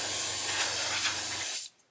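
Aerosol spray hisses steadily onto a scale model to knock down its gloss, one continuous close burst of about a second and a half that stops abruptly.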